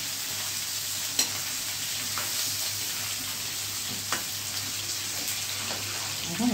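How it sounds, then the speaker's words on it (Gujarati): Potatoes tempered in hot oil with dried red chillies, green chillies and lemon for a Gujarati dish, a continuous close sizzle and fry hiss with a few sharp spoon clinks against the pan. "બટેટા વઘાર્યા."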